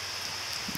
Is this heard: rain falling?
yes